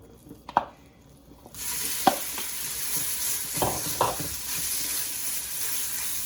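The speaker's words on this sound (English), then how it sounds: "We're going to add in the minced pork that we did." Minced pork hits a hot pan at about 1.5 seconds and breaks into a steady, loud sizzle that runs to the end, with scattered utensil clinks and scrapes before and during the frying, for Vietnamese hu tieu nam vang.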